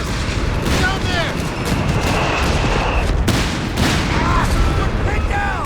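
Dense battlefield gunfire from the Company of Heroes 3 strategy game, with bursts of machine gun fire, booms and artillery layered continuously across the clip, loud and busy, with radio-style unit voices calling out over the din.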